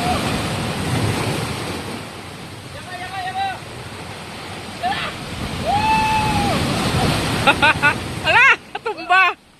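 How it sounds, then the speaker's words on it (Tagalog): Heavy ocean surf roars at Sombrero Island with wind buffeting the microphone, while people talk and shout excitedly over the crashing water. "Napakalakas ng alon mga kabiyahe."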